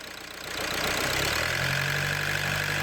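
A Ford Mondeo engine in limp mode with no power, fault P2263, revved while parked: the engine rises from idle into a steady, loud, sustained drone with a rough buzzing edge, heard close and held without speech.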